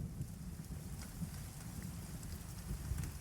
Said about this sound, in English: Rain washed down it, as with the front door's window